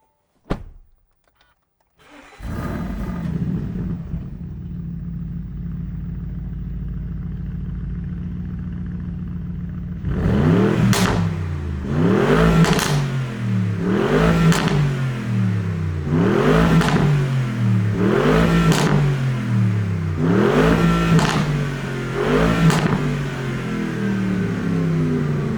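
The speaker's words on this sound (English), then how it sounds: "That's the optional Akrapovic exhaust system." A 2025 Bentley Bentayga Speed V8 with the optional Akrapovic exhaust starts up with a sharp bark and settles into a deep idle. It then delivers about seven loud, evenly spaced revs, each a rising roar that falls back.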